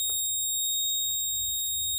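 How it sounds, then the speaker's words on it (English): A safety bracelet with GPS/GSM alerting and red and green LEDs sounds its SOS alarm buzzer, a loud, steady electronic tone that pulses rapidly and runs continuously, close and alone. "When you press the button, woman in trouble. Red LED on, previous green LED on. Okay, red LED on, alarm on"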